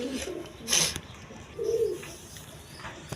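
Teri pigeons coo nearby in a pigeon enclosure, with two short, low throaty coos spaced a second apart and a brief rustling burst between them.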